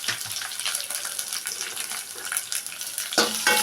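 Dry red chillies and onions frying in a pan for menthi kura pappu, a fenugreek-leaf dal, giving a bright continuous sizzle that shifts a little as the pan is moved, plus a louder burst near the end.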